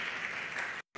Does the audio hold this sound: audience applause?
yes